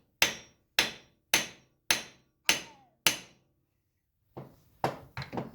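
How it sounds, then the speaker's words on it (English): Six loud, evenly spaced hammer blows ring out on a Badlands 2500 lb winch, each sharp strike fading quickly, followed by a few softer, irregular knocks and clatter. "Don't hammer. That makes bad noise on the video."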